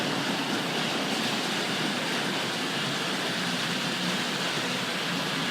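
A Tri-ang Suburban model train runs along its track with a steady, even rushing rumble, close and continuous, with no talking.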